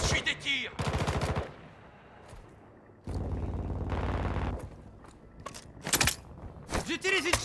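Bursts of automatic gunfire in the Call of Duty video game, loud sustained volleys and shorter rattles alternating with quieter gaps, with in-game voice callouts heard between the shots.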